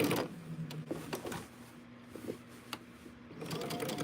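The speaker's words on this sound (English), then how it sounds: "And back to straight stitching." A sewing machine running a straight stitch across a quilt, its steady mechanical whir and rapid needle clatter continuing close and moderately loud with brief pauses, no one speaking.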